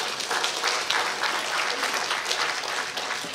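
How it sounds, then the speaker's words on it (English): Sustained audience applause at an inaugural professorial lecture ceremony, a dense steady wash of many hands clapping throughout, loud and close with no talk over it. "Let's give him a round of applause."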